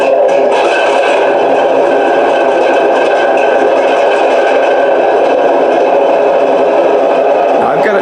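A loud, continuous engine drone with rattling, scraping mechanical texture runs steadily throughout, a model Panzer III/IV tank's sound card simulating a Maybach 12-cylinder engine through a small speaker.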